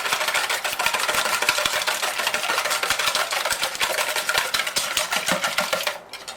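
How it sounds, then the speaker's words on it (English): Six eggs are whisked vigorously in a bowl for lemon curd, making a fast, continuous clatter of the whisk against the bowl that is close and loud, then stops abruptly near the end. "We want 6 eggs in the bowl that we're cooking with. Whisk them up."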